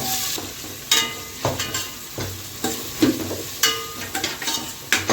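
Onions frying in hot oil with cumin, mustard seeds and green chillies, for a Telangana-style okra curry. A steady sizzle with repeated stirring scrapes and clacks of a spoon against the pan, close and fairly loud, with no talk.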